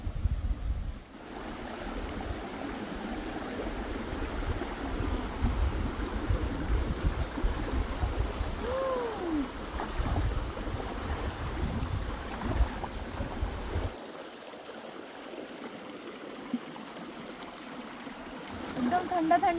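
Full monsoon river rushing past a farmhouse, a steady close wash of flowing water that fills the first fourteen seconds before dropping to a quieter, thinner rush near the end.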